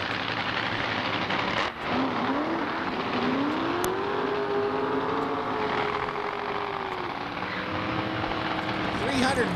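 A twin-turbo 340 cubic inch Ford modular V8 Mustang drag car rumbles at a drag strip with a steady engine drone and a slowly wavering pitch, while a commentator talks over it.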